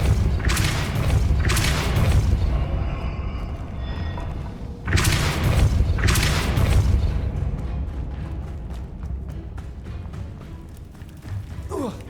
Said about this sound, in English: এবার একে যা ধাক্কা দেবো। Depulso.